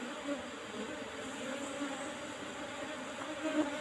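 Apis cerana honey bees buzzing steadily around an opened hive during a honey harvest, a close, continuous drone with faint rustling and no talk.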